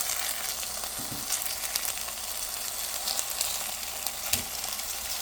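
Chicken chapli kebabs sizzle steadily in a hot pan, a continuous close crackle of frying with small pops and occasional louder spits, no talking.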